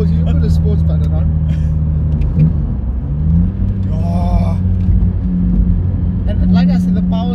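Sports car engine with individual throttle bodies, a loud close steady rumble with low tonal drone that shifts pitch slightly, while people talk over it throughout.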